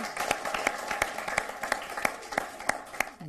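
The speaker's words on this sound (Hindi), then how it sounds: "एक बार जोरदार तालियां" Applause welcomes a poet at a Hindi poetry gathering on nationalism, a thin patter of clapping with distinct sharp claps landing in a fairly regular rhythm, moderately close.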